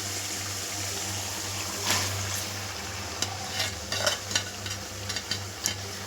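Steady sizzling and bubbling of cleaned squid, salted and coated in turmeric, frying in a pan, with a few soft clinks and stirring scrapes near the end.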